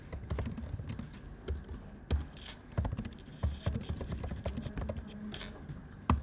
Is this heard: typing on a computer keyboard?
yes